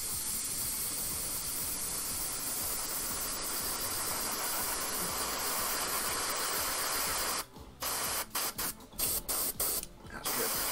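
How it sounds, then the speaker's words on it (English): An airbrush sprays paint onto a miniature in a steady, loud hiss that runs continuously, then breaks into several short bursts near the end. "get the old trusty airbrush out again"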